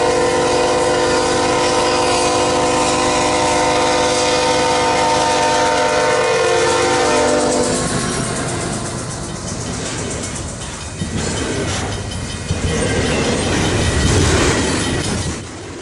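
CN freight train 442 in winter on the prairie: a loud horn blast with strong harmonic tones fades into the heavy rumble and rhythmic wheel clatter of cars rolling past close by.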